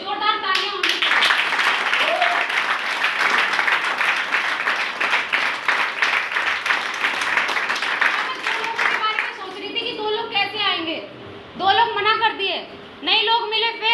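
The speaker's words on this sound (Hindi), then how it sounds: "जोरदार तालियां होनी चाहिए।" An audience breaks into loud, sustained clapping for about eight seconds, then it fades as a voice speaks over the tail end.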